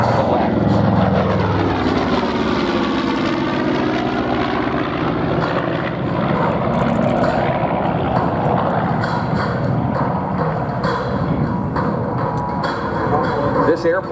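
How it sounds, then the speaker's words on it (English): A North American B-25 Mitchell bomber makes a low pass at a Marine Corps air station airshow in Beaufort, South Carolina, its twin radial engines swelling to a loud drone that sweeps in pitch as it passes, with an announcer talking over it. "We watch now from the left for a demonstration of what the enemy would have seen on that day of April 18, 1942, as Devil Dog approaches low to the left."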